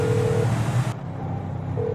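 A phone call comes in during GTA 5: short electronic ring tones sound at the start and return near the end, over a loud rumbling in-game background.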